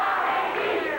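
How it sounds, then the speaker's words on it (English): A brief swell of crowd noise at a 1986 CWA Memphis championship wrestling match, the audience shouting and jeering at wrestler Larry Wright, with mixed voices blending into one roar. "Crowd on Larry Wright a little bit."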